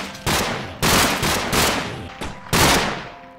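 Kalashnikov rifle fire in Minecraft rings out in four loud, close bursts of rapid shots separated by brief pauses, with each burst trailing off.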